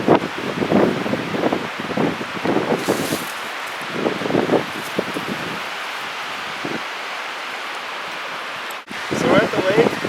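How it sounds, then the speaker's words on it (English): Strong wind gusts buffet the microphone beside a lake outdoors, a rough rumbling roar that rises and falls in bursts, with someone talking over it. "it's very windy"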